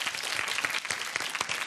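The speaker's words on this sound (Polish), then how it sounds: "Brawa." Dense, steady clapping from a studio audience at a televised talent show final, continuous and loud throughout.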